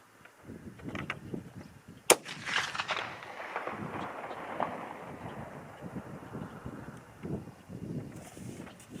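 A single Bergara B-14 BMP rifle shot from a handload with new cases and primers cracks sharply and briefly, then the report rolls away across open ground under steady wind noise.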